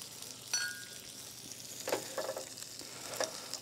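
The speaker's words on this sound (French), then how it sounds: "nous allons flamber" Shrimp tails flambéed in alcohol give off a soft, steady sizzle. A few brighter crackles and pops rise over it, and the sound stays close and fairly quiet.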